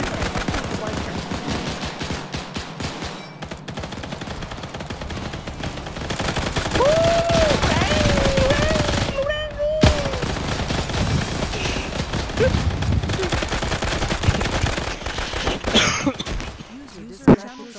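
Gunfire in the video game Arma 3 crackles in rapid bursts throughout, mixed with game noise, a brief whistling tone, and players talking over it.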